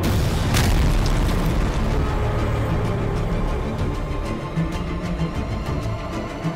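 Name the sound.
Arjun tank cannon firing shells, explosions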